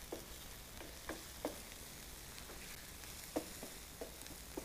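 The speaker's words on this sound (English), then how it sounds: "So I'm just frying up the onion a bit." Onion frying in a pan during a vegetarian cooking demonstration, a steady close sizzle broken by soft stirring clicks and taps at irregular intervals, with no talk.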